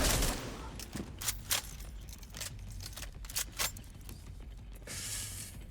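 Rapid bursts of minigun fire in a video game, coming in quick clustered volleys over a dense rumbling background, loud and close with short gaps between bursts.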